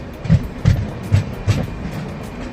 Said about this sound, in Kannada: ಇವಾಗ ಜೈರಾಬಾದ್ ರೈಲ್ವೆ ಸ್ಟೇಷನ್ ಎಂಟ್ರ್ ಆಗ್ತಾಯಿದೆ ನೋಡ್ರಿ